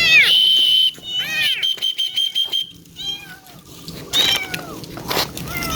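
A cat meows repeatedly at close range in a series of loud, drawn-out and shorter cries, continuing with scattered meows and some background noise.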